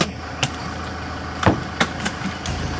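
An engine idles steadily before a trailer ride uphill in Thailand, a low continuous rumble with a few sharp knocks and clatters over it.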